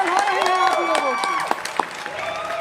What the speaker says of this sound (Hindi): वाह जोरदार ताली भाई।